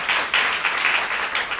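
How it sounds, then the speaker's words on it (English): Audience applause at a festival event celebrating Mexican music and literature, a brief burst of moderately loud clapping that lasts under two seconds. "Let's give him a round of applause."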